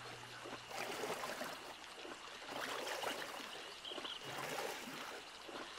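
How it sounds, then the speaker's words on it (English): Flowing water in the survival game 7 Days to Die, a soft, continuous splashing rush with gentle swells, fairly faint and alone without talk. "The water, I don't like the water sound."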